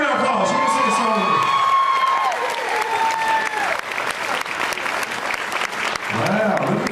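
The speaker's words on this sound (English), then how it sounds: "Everybody give her a round of applause." An outdoor main-stage crowd applauds and cheers for Faith Hill, dense clapping with whoops and shouts lasting throughout, loud and close, with an amplified voice speaking over it at times.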